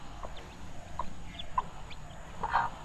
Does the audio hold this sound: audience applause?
no